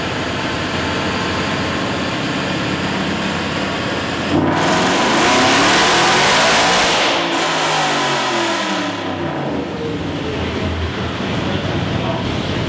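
A car engine on a dyno roars loudly and steadily, then a rushing surge rises and sweeps down as the revs climb and fall off.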